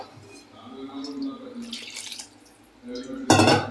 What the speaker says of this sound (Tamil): வேணுன்ற குவான்டிட்டி தண்ணி ஊற்றிக்கலாம்